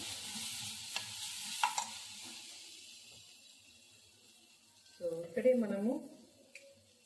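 Tomato fries in a pan for an okra curry, giving a faint sizzle with a few light clinks of stirring that fade out, followed by a brief burst of a person speaking nearby.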